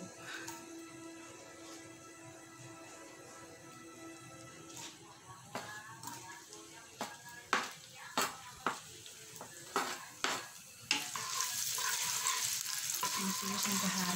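Shallots and garlic frying in hot oil, a soft sizzle under scattered clinks and scrapes of a utensil against the pan, growing louder and hissier toward the end.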